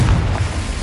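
A Confringo fire spell explodes in Hogwarts Legacy, a loud, deep booming blast that rumbles low and sustained with no talking over it.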